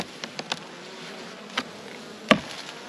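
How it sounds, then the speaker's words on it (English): Honey bees of the Hornsby Hive hum softly at close range during a late-season inspection, a faint steady drone broken by several sharp clicks and one louder knock near the end, no talk. "So good amount of bees in the Hornsby Hive"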